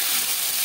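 Pieces of Bata fish sizzle in hot oil in a pan, a steady, bright crackling fry with no pauses across the short moment.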